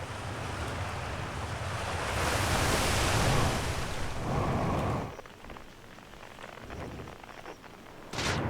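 Surf washes and rolls in the Outer Wilds video game, a broad steady roar that swells then drops to softer lapping, ending with a brief louder splash; no one talks over it.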